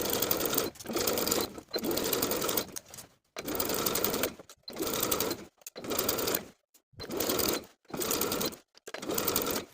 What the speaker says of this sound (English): Sew the facing in place all the way around with a 3/8 inch seam allowance.